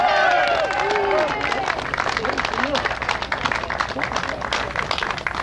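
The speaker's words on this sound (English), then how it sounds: "let's give a very warm round of applause, very warm Tea Party round of applause for my good buddy Todd Feinberg" Warm applause from a Tea Party audience in Boston: dense crowd clapping with cheers and babble, loud and sustained, as voices call out over it.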